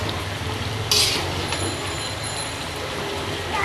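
Beef cooked with chui jhal bubbles in a pot on the stove, giving a steady low simmering rumble and hiss throughout, with a brief brighter clatter near the start.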